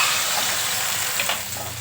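Tempering for sambar sizzles in hot oil, a dense close frying hiss that holds steady with a few brief crackles, no voices.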